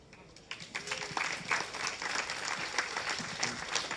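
A crowd at a film premiere screening of a documentary about work applauds warmly, many hands clapping in a sustained, even wash that swells after a quieter start and fills the room at a moderate distance.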